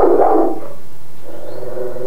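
A Rottweiler gives one loud, close bark or yelp, followed by a quieter drawn-out whine.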